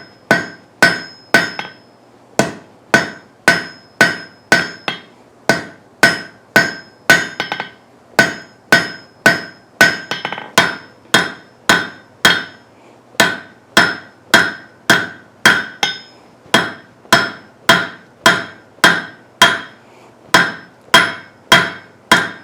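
Hand hammer forging on hot 1/2 inch steel bar, drawing it out on an anvil: a long, steady run of loud, ringing hammer blows at a regular rhythm, close up with no talking.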